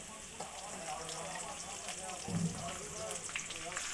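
Sliced onions frying in hot oil in a pan for chili chicken, a steady soft crackling sizzle with small pops throughout, fairly faint.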